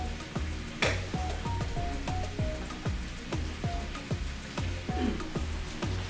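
Knife chopping bacon into pieces on a board, a quick steady run of sharp chops repeating about twice a second, close and distinct.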